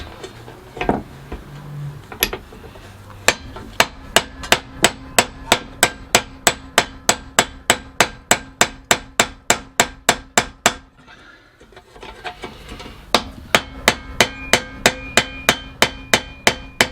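Rapid, evenly spaced metallic hammer strikes drive a front ball joint out of a Honda Civic knuckle, a long run of sharp ringing whacks that pauses briefly, then resumes at the same steady pace.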